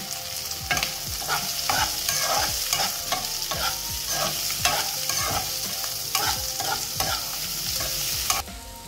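Onions fry in oil for Andhra veg biryani, a steady sizzle under brisk, repeated scraping strokes of a spoon against the pan, close and fairly loud throughout.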